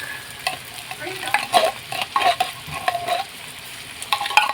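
Corned beef frying in a pan while being stirred, with an irregular pattern of scraping and clinking strokes over a constant sizzle and no talking.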